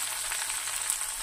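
Curry leaves frying in oil for a tamarind rice dish, a brief, even sizzling hiss at moderate loudness.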